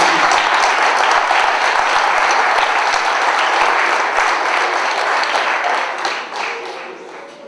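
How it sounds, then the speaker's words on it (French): A hall full of people applauds the champion women's basketball team at a sports merit awards ceremony, loud dense clapping that holds steady for several seconds, then tapers off at the end. "je pense qu'on peut les applaudir"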